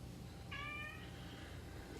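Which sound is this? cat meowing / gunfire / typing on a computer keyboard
cat meowing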